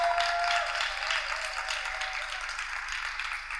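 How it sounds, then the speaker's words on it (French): Studio audience at a reality TV show in Côte d'Ivoire applauds the energy drink sponsor King Lion, steady clapping over a faint background tone, with no speech. "une boisson énergétique, King Lion, qu'on applaudit très fort"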